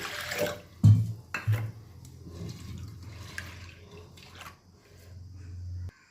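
Water pours into a pressure cooker for soaking and boiling black gram, a steady splashing stream with a few louder bumps of the cup, continuing alone for several seconds.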